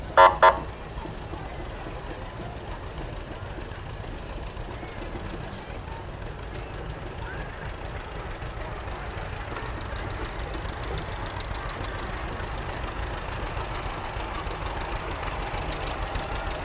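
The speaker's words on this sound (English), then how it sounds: "got a John Deere making its way up Pennsylvania Avenue here" A John Deere tractor rolls along Pennsylvania Avenue in the Wellston, Ohio Hill Country Festival parade, its steady engine rumble continuing beneath crowd noise and talk after a brief toot at the start.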